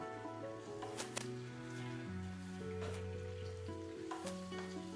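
Onions fry in a pan for a Burmese curry, giving a steady, moderately loud sizzle with occasional stirring throughout, under sustained tonal notes that shift in pitch.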